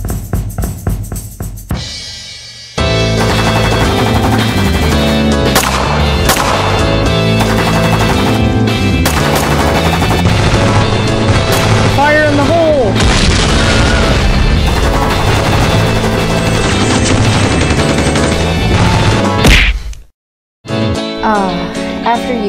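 Gunfire in the VR game Mandrill Manifest, with repeated shots and impacts layered under loud continuous music for most of its length, and a voice talking over the start.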